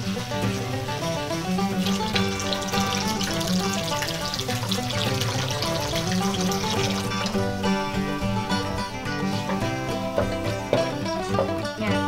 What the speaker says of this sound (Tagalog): Sunod ko pong ilagay itong ating pineapple juice.